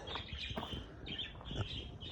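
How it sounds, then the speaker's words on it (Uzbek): A quick burst of wing flaps and fluttering from a pigeon taking off, with faint chirps, fairly close and brief. "O'ta qattiq uchadigan narsaga o'xshayapti. Qattiq ekan kaptar."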